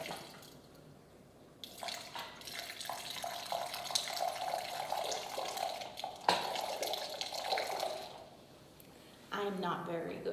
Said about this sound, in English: I just got taught how to do the cider pour. I gotta start low and go high.